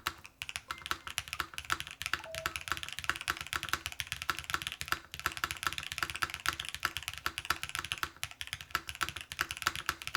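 Continuous fast typing on a chunky Lotus80 mechanical keyboard with the screw under the spacebar removed, dense rapid clacks with occasional heavier spacebar thocks, close and steady with no voices.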